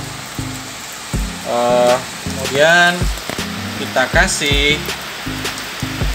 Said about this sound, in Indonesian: Kebetulan hujan guys, jadi agak syahdu